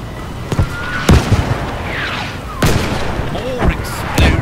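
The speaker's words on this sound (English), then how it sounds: "More explosions from above." Explosions boom across a blasted snowy map with barricades in the Battlefield V video game, several sharp, loud blasts landing in an irregular sequence over a constant battlefield rumble.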